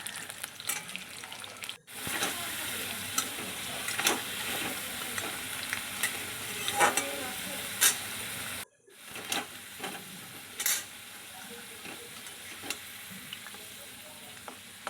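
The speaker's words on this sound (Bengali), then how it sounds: "আলুগুলোও ঠিক লাল লাল করে ভেজে নেবো" Potato pieces fry in hot oil, giving a steady close sizzle with scattered crackles and the occasional scrape of stirring, broken by two brief silent cuts. No one speaks.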